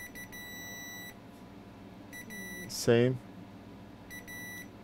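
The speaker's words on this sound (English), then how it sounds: "So all these should give us a beep." Multimeter continuity-test beeps during circuit board checks on a customer's tablet: steady electronic tones repeat in short bursts, a chirping burst sounds in between, and a person talks briefly.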